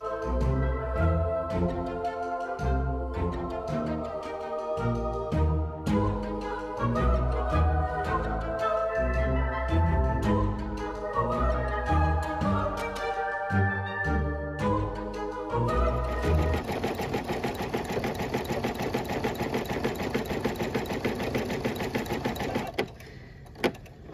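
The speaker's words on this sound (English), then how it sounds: "now it's going to do that satin stitch, kind of like a ledge or an edge" An embroidery machine sews a satin stitch edge on a house design, a fast, steady mechanical clatter of needle strokes that changes to a brighter, rapid buzz partway through and then stops near the end.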